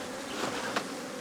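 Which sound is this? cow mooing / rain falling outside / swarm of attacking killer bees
swarm of attacking killer bees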